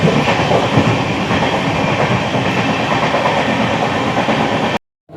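Loud, steady rumble of a train running on tracks from inside a carriage on an Indore-to-Wankaner journey, with continuous rattling that cuts off abruptly at the end.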